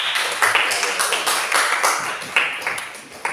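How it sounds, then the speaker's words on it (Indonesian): A classroom group claps for the students who have just presented, a scattered run of sharp hand claps close to the listener and lasting the whole moment. "Beri tepuk tangan untuk kelompok yang mempresentasikan"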